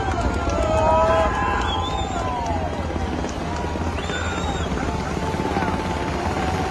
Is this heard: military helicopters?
yes